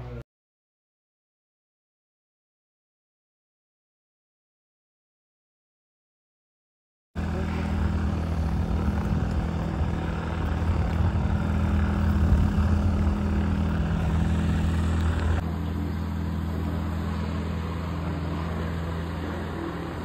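An airplane at Baramati airport gives a steady, fairly loud engine drone with a humming tone. It begins abruptly after several seconds of silence and holds to the end.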